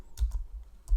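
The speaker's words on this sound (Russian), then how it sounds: "если я пишу сейчас на австрийской раскладке слово «привет»" Keys clack on a Mac computer keyboard with an Austrian layout, a few quick close keystrokes in two small clusters with a pause between.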